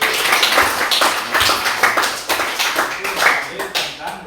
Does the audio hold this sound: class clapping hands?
yes